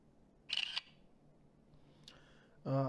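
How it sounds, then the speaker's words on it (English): Electronic camera shutter sounds from a Nokia 6131 phone: a short bright burst, a faint click a moment later, then another loud shutter burst at the end. "The classical Nokia camera sound."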